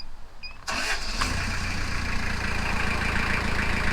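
A car engine, newly installed, cranks and fires at about the half-second mark, then settles into a steady, fairly loud idle for the remaining seconds, with no talking over it.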